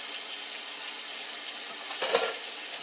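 Water poured from a can, about a quarter cup, into a crockpot for chicken pot pie soup, a soft continuous splashing trickle with a brief louder gush near the end.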